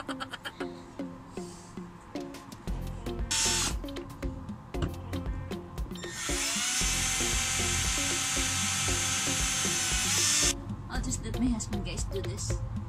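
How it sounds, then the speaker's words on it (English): A drill whirs at high pitch in a continuous burst for a few seconds, framed by rattling clatter and bursts of background music and talk. "so I have to get the drill"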